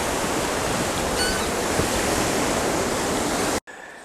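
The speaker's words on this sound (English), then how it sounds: "we just dropped out of the white water up above" Rushing river white water roars steadily and fairly close as a dense, even wash of noise, cutting off abruptly near the end to a quieter background.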